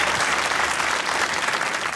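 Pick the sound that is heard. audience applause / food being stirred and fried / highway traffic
audience applause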